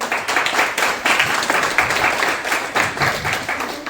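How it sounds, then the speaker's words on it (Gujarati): Steady applause from a seminar audience at a Mind Matrix Academy event in Nadiad, dense clapping filling the room evenly at moderate loudness throughout, with faint voices underneath. "તેમના માટે પેલા જોરદાર તાળીઓ"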